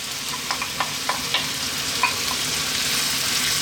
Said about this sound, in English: What we're going to do now is drop in 1 can of tomatoes.